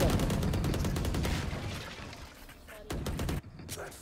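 Rapid gunfire crackles in a Valorant match, with dense bursts of shots and impacts that fade toward the end before a few more sharp cracks, heard close and loud with no talking.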